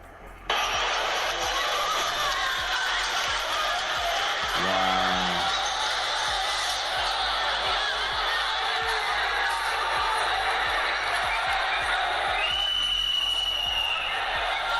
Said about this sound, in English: It's just a crowd of people